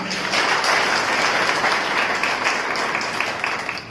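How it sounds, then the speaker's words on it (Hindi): A crowd of women at a Maharshi Gautam Jayanti celebration in Sujangarh applauds, dense continuous clapping that stays loud and even before fading slightly at the end. "तो एक बार इनके लिए जोरदार तालियां।"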